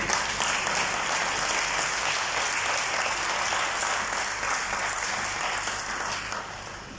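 An audience at a Mauritius Olympic committee ceremony claps in sustained, dense applause that holds steady and then tapers slightly toward the end, with no voices heard over it.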